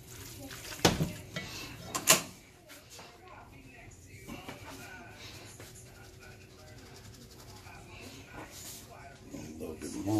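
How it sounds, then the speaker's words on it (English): A utensil stirs and folds chicken, tri-color pasta and grated parmesan in a metal pot, with a few sharp clanks against the rim early on and soft scraping after, while someone talks over the cooking. "A little bit more of that. Mix it up in there. Fold, fold, fold."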